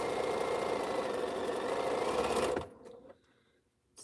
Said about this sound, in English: so I can just sew away